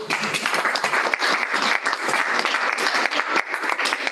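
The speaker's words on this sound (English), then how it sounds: "Give a huge applause to our alumni." Conference audience giving loud, sustained applause for alumni, dense clapping from a large crowd filling the room with no voices over it.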